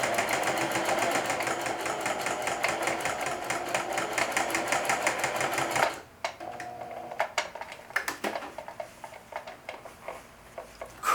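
A sewing machine stitches through denim jeans in a fast, steady mechanical run that stops abruptly partway, followed by quieter clicks and handling sounds as the foot is lifted and the fabric pivoted.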